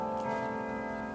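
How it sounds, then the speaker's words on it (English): A repaired grandfather clock chimes indoors, its sustained bell-like tones ringing steadily and fairly loud with no voices over them. "The clock is chiming."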